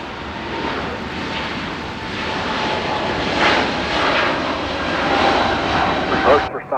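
A passenger jet at LAX on a sunny evening roars loud and steady as it lands or takes off, swelling midway and fading near the end, with no talk over it.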